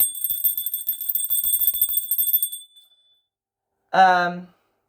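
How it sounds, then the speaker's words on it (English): A single bell rings once near and clear after a stretch of steady ringing tones, then stops, left alone in silence. "Let's ring the bell."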